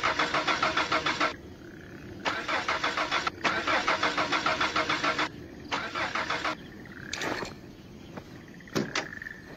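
A car engine turns over and starts with loud pulsing bursts, settles into a mid-range idle, then pulls away, with faint clicks and a brief electric whir near the end; no talk.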